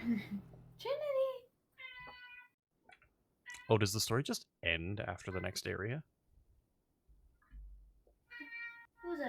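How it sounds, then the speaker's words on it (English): A pet cat meows several times near a microphone, with drawn-out harmonic cries between stretches of someone talking and a brief burst of clicking. "I can hear him meowing in the background"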